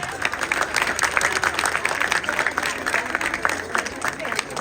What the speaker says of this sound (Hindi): एक बार सभी माता पिता इन छोटे छोटे बच्चों के लिए तालियां बजाएं